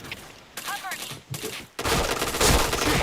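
Gunfire in a shooter video game with headshot kills, starting as scattered muffled shots, then swelling into a loud, dense barrage of rapid fire for the final second or so.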